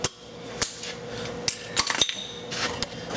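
A rivet is knocked out of a shim on a van, heard as a few sharp, close metallic knocks and clinks spread over a few seconds against a quiet background.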